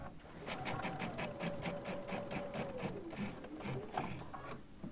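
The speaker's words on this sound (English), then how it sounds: "touch your reverse button, and it will stitch in place" A serger sewing machine stitches in place with a fast, steady mechanical chatter up close, accompanied by a thin whine that gradually drops in pitch, then a brief pause and a final few stitches.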